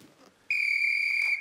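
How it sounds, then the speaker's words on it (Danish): A single sharp referee whistle sounds in one steady blast of about a second to start a timed challenge at an American football event, loud and clear after a brief quiet moment. "Når fløjten lyder, så går du i gang."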